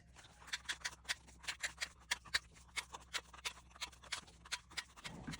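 Small scissors or a corner punch snipping the corners off paper journal cards, a rapid series of crisp, close clicks in a steady rhythm with nobody talking.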